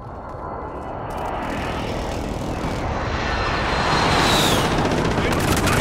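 Loud, sustained roar of an incoming airstrike in a video game, a broadband rumble building steadily over several seconds with a faint jet whine near the end, with talk mixed in.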